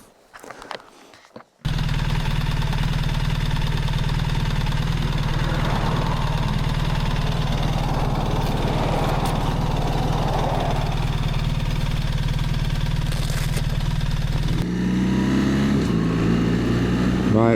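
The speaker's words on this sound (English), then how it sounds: "What a machine, R1300. Stonking great exhaust there too." A BMW R1300 RT motorcycle runs with a steady, deep engine and exhaust rumble heard close up, starting abruptly after a brief rustle, holding an even idle and shifting pitch near the end.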